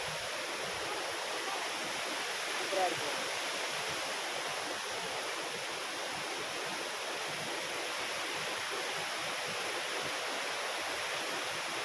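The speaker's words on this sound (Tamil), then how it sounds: "பக்கத்தில் பாருங்க, ஒரு அருவி ஒன்று இருக்குது." Steady, even rushing of a small waterfall beside a Shiva temple on the Tirupati–Papanasam route, a constant hiss of falling water with a brief spoken remark over it.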